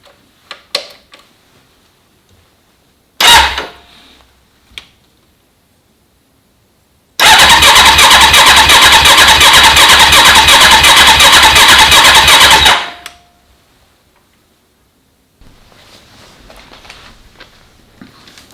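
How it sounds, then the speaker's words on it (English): A car engine with fuel disabled is cranked for a relative compression test: a loud, rapid, even chugging of the starter lasts about five seconds without catching, framed by quieter clicks and handling noises before and after. "I am now ready to crank the engine and carry out the relative compression test"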